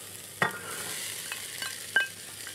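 Peas tipped into a pan of softened onions for a goat cheese ravioli and pea cream, giving two sharp clattering splashes with a brief stir between them over a faint, steady sizzle.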